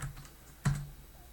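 A handful of soft keystrokes on a computer keyboard, light irregular taps with one firmer key press near the middle, close and quiet with no talking.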